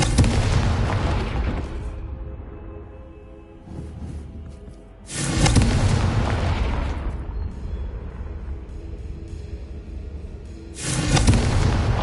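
Loud fiery blasts from the Confringo spell in Hogwarts Legacy, three big bursts with rumbling roar between them, the last one cut off at the end.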